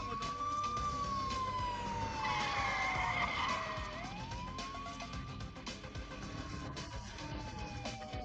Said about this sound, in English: At the sound of a police siren, Molchu turned around and was very surprised